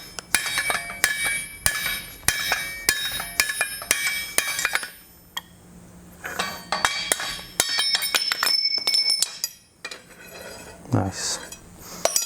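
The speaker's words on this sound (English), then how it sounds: "And finally we get the drift punch and punch the round hole." A drift punch hammered through a slit in a hot steel bar to open a round hole sized for 1/2 inch round stock. Dense, rhythmic metallic clinks ring close and loud, pause briefly, then resume in scattered bursts of sharp strikes.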